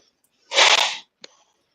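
One sharp, forceful human sneeze bursts out close by, followed by a brief click or sniff just after.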